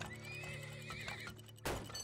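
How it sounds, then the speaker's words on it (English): Horses in the oil-drilling game Turmoil give a long wavering whinny over steady game music, then a sudden thud and clatter near the end. "More horses, come on."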